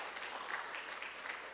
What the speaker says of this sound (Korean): 우리 박수 한번 줄까요?